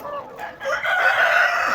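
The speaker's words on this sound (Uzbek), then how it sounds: "Aslida Ruminiya tovuqlarimiz." Romanian chickens clucking with a rooster crowing, the crow rising loud and close in the second half over a busy farmyard backdrop.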